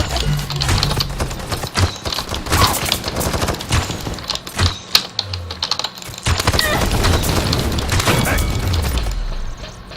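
Repeated gunshots in a video game, heard as sharp bursts and clicks scattered through busy game noise, with some voices in the mix.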